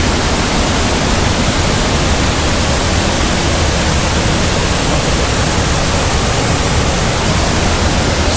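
A loud waterfall heard from close below: a dense, steady roar of crashing water that fills the whole clip without pause or voices.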